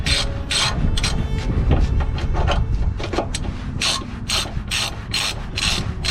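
A 3/8 drive ratchet loosens the sway bar bracket bolts on a 1997-2004 Dodge Dakota, giving rapid close clicking bursts in repeated strokes, loud and alone without talk.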